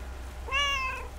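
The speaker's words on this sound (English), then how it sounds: "Tuxedo cat." A tuxedo cat in the video game Lake gives a single short, clear meow, close and alone over a quiet background hum.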